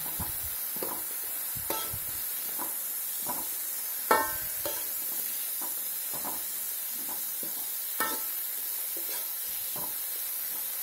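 Broccoli and carrot stir-fry being stirred in a pan after ground pepper is added, a soft steady hiss with repeated light scraping and clinking of the utensil at irregular intervals, close and fairly quiet.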